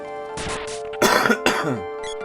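A man coughs and then clears his throat harshly several times in a row, close to the microphone, over a steady faint electronic hum.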